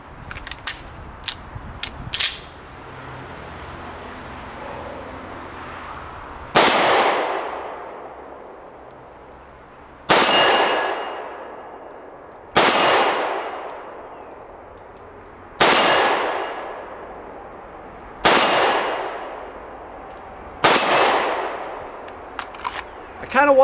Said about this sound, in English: we'll move out to some distance shooting on steel